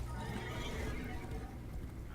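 Horse hooves pound on paved ground in the Warframe video game, in its Duviri area, with a dense, steady clatter of close, loud hoofbeats that carries on without a break.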